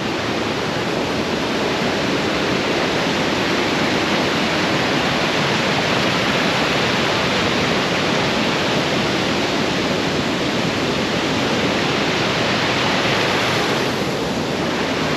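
Powerful waterfall at Mahood Lake falls heard from right on top, a loud unbroken roar of rushing water with wind noise, filling the whole stretch without a break or any talking.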